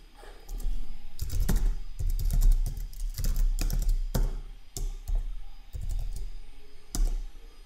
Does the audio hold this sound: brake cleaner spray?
no